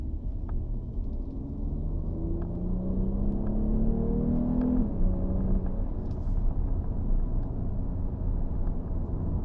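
A 2019 Jeep Cherokee 4x4 with a V6 engine hums and rumbles as it shifts gears at night, its low engine tone rising and falling in smooth sweeps under a constant road drone.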